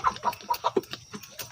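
Free-range heritage chickens at a backyard farm, a rapid run of short, close clucks in quick succession over faint background noise.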